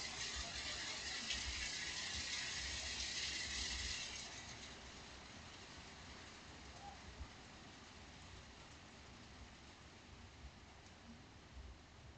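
Rain falls outside in a steady, soft hiss, louder for the first few seconds and then easing to a quieter, even patter with no voices.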